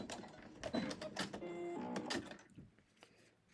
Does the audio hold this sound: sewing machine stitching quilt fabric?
yes